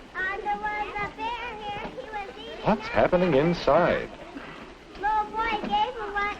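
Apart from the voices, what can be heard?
noisy school classroom with children talking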